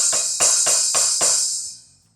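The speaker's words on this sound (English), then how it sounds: "Trashy hi-hats is where you open the hi-hat slightly with your foot and then you'll get a half open sound." A drum groove plays trashy half-open hi-hats, loose sizzling hits about every quarter second over light kick and snare, close and bright, the wash ringing out and fading at the end.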